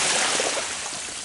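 Water is tipped and dumped out of a container that had collected a fair amount inside, giving a steady, close rushing splash and pour that lasts the whole moment, with no talking.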